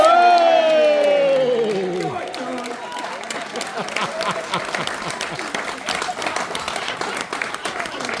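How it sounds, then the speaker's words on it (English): Wedding guests break into sustained applause and cheering after a toast to the groom, a dense crowd of clapping hands filling the room, rising quickly and holding steady, with an early held voice fading under the clapping. "So a round of applause for George Vod!"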